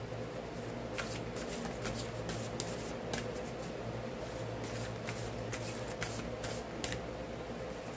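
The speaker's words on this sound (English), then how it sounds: "Let's go ahead and draw a Divine Circus card to see what comes out with the Divine Circus." Oracle cards from a Divine Circus deck being shuffled and drawn, with a close, continuous riffle and rub of card stock broken by brisk flicking bursts and no voices.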